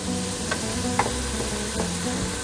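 Onions and garlic sweating in a pan, a soft continuous sizzle close by with a few light clicks of stirring.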